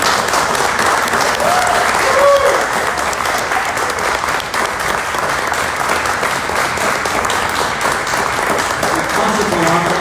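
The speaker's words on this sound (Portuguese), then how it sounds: "uma vigorosa e veemente salva de palmas" Vigorous, sustained applause from an audience at a book fair launch, celebrating a prize-winning author; dense, even clapping fills the room throughout, with faint voices murmuring underneath.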